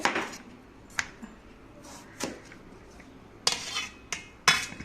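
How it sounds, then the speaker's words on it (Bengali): Raw papaya being sliced with a knife on a board, several sharp separate cutting knocks a second or so apart, close and distinct against a quiet room. "দেখুন আমি সুন্দর করে স্লাইস করে করে কেটে নিচ্ছি"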